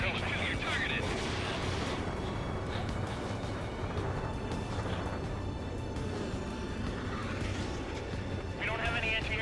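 Anti-air gunfire in the video game Ace Combat 7 rattles as a dense, continuous barrage of distant flak, with heavy rumbling bursts running under radio voices throughout.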